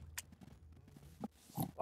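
A pig in the video game Minecraft gives several short oinks and grunts, quiet and close, spaced irregularly across a couple of seconds with no talk.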